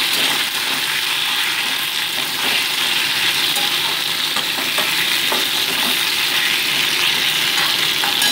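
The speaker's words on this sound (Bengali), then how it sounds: "শিমের টুকরোগুলো দিয়েও মোটামুটি 2 মিনিট আমি শিমটাকে ভেজে নিচ্ছি আলুর সাথে।" Bean pieces and potatoes fry in a pan, giving a steady, close, fairly loud sizzle and crackle with scraping stir sounds throughout. No one speaks.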